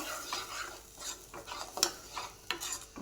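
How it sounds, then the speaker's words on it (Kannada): Fried onions being stirred through hot oil in a pan, with soft scraping strokes and a light, steady sizzle at close range, no voices. "ಈ ಥರ ಆಯಿಲಲ್ಲಿ ಮಿಕ್ಸ್ ಮಾಡ್ಕೋಬೇಕು"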